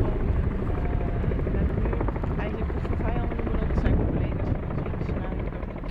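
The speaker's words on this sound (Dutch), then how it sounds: "We zijn hier dus nu met 33 helikopters van 3 verschillende landen." Several military helicopters from three countries flying during a NATO exercise at a Dutch army base, a loud continuous rotor roar and engine drone filling the whole stretch, with voices faint beneath it.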